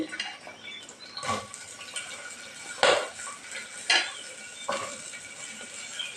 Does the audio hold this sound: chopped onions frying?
yes